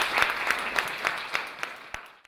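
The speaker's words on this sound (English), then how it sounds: "I think we should have a round of applause." An audience applauds at the final of a public speaking competition, with clapping that begins full and then thins out and fades, leaving a few last scattered claps.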